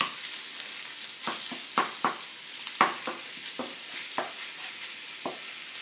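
Fresh venison frying in a pan over medium-high heat, a steady sizzle broken by repeated scraping and tapping of a utensil turning the meat, close and clear with no talk.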